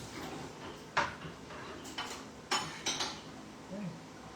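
Plates and dishes being washed by hand, with separate clinks and clatters of crockery and cutlery knocking together at irregular intervals, fairly close but quiet.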